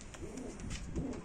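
Short-beaked fancy pigeons, Antwerp Smerle among them, coo steadily at close range in overlapping low, throaty rolls, with no talk.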